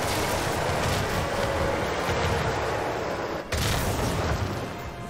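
A dense, continuous roar of rapid explosions from a rocket barrage in the video game Iron Marines, loud and unbroken apart from one brief dip.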